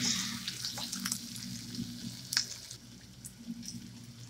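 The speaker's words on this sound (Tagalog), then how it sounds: "ginisa ko na yung sibuyas" Chopped onion sautéing in a pan as the base for a vegetable dish with bagoong, giving a steady, quiet sizzle with a few faint scrapes and clicks.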